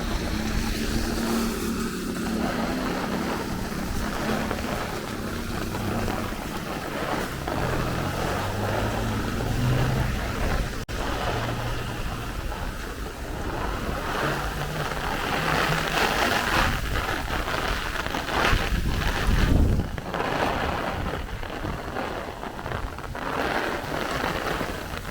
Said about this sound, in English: Look at that wind, guys. Look at the wind.